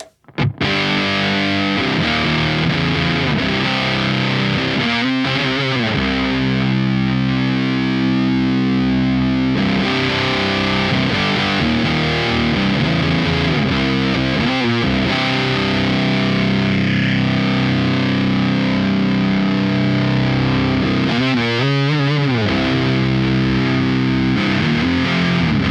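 Electric guitar through a KMA Machines WURM2 distortion pedal, all knobs at 12 o'clock, plays loud, sustained chords and riffs throughout, with a thick saturated tone and brief pauses between phrases.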